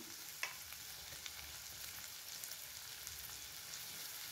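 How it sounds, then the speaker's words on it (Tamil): Onion frying in a pan for a goat liver gravy, a steady close sizzle throughout with a faint utensil tap near the start and no talking. "வெங்காயத்தை வந்து ஒரு அஞ்சு நிமிஷம் நல்லா வதக்கி விடுங்க"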